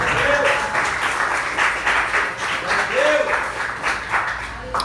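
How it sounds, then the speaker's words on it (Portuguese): A church congregation at a youth service claps along while a preacher keeps talking over it, the applause loud and rolling in uneven swells beneath the voice. "Aplauda Jesus, igreja"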